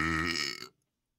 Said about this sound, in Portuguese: arrotei na cara do vendedor